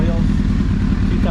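A 2006 Honda CBR1000RR with an IRC quick shifter runs on a stand, a loud, steady engine drone filling a brief moment.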